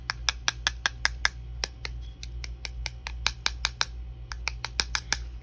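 Rapid clicky taps of fingertips on hard, dry acrylic nails with a marble finish, about two dozen sharp ticks in quick irregular bursts, close and fairly quiet over a low steady hum.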